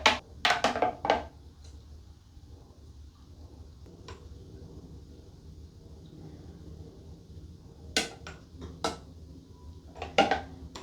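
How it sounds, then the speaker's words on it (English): A spoon gently stirring strawberry wine must in a brewing vessel gives sparse light clinks and taps, grouped near the start and end, over an otherwise quiet background. "And now we give it a good stir, but a gentle stir this time."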